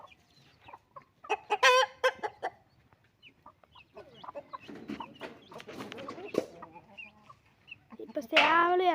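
Free-range country chickens cluck and murmur as hens settle onto a roost, with a louder squawk near the start and another at the end, while a person talks softly in between.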